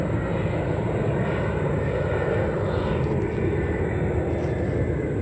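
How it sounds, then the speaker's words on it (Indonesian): Airplane flying over a plantation garden in Manado, a broad steady engine roar that holds loud and continuous throughout, with no talk over it. "Ada pesawat terbang-terbang."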